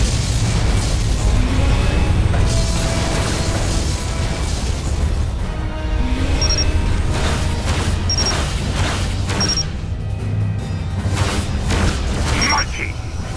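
Klingon vessel blowing up in Star Trek Legacy, loud booming blasts and crashes layered over dense battle noise, with voices speaking throughout.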